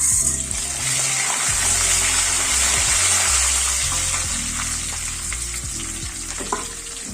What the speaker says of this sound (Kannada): ಕರಿಬೇವು ಮತ್ತು ಕಡಲೆಬೇಳೆ ಮತ್ತು ಒಣಮೆಣಸು, ಸಾಸಿವೆ ಹಾಕ್ತಾ ಇದ್ದೀನಿ.